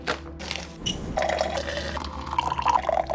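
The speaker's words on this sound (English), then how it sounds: "pour yourself a hot cup of coffee" Hot coffee poured into a cup in a home kitchen, a steady liquid trickle and fill with faint drips, close and alone, running continuously for a few seconds.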